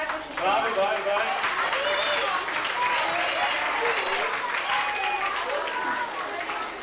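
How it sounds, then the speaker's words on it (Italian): Audience at a school commitment festival applauding children's show performers, steady crowded clapping with cheering voices that holds at full strength throughout. "applauso grandissimo a tutti quelli che sono seguiti finora"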